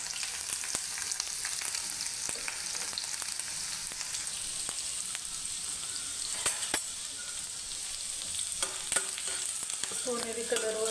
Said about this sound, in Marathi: सोनेरी कलरवर येईपर्यंत लसूण परतून घ्यायचं।